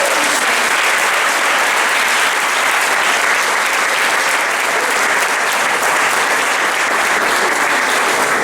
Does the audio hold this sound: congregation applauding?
yes